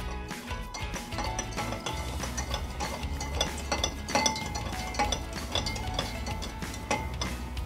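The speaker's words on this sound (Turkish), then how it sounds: "Şekerim eriyene kadar bu karıştırma işlemiyle devam edeceğim." A spoon stirs sugar into room-temperature milk, with rapid repeated metallic clinks and scrapes against the bowl in a continuous close rhythm.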